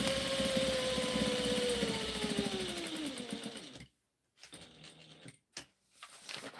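A sewing machine runs a continuous stitch on ghost-shaped coasters for several seconds with a slowly falling motor whine, then stops, leaving a few faint clicks and brief short bursts.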